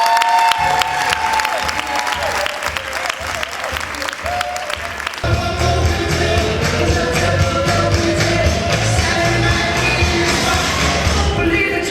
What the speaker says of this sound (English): Applause to our 2015 Pain Empowerment Award honorees, co-founders of Black Girls Run,